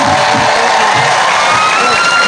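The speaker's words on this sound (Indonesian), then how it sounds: "Yang sebelah sini tepuk tangannya mana?" Large outdoor crowd in Indramayu cheering and clapping at a public greeting event, a loud continuous wash of shouts and whoops throughout.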